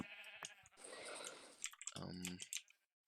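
Sheep bleating in the Minecraft video game, a short wavering bleat with harmonic tone near the end, preceded by clicky keyboard and mouse tapping and gameplay noise, fairly quiet and close.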